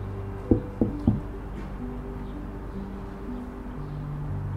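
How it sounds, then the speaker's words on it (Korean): Three sharp knocks on a door in a Korean story game sound in quick succession early on, followed by a low, quiet ambient hum with sustained tonal background music. "가서 노크 좀 해봐"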